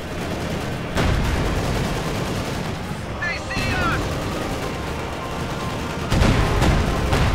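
Tank guns fire in a Company of Heroes style strategy match, with a Panzer IV taking rear shots: dense battle noise with several sharp booming reports, including strong blasts near the start and end, under a constant din of gunfire.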